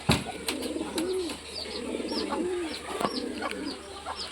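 Pigeons from an old-bloodline high-flying loft coo in soft, rounded calls that repeat every second or so, close by over a low background hum, with faint higher chirps scattered throughout.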